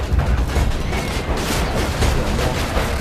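Loud, rumbling explosion in the video game Borderlands 2, with a dense, continuous roar of booms and crackling debris, heavy and close.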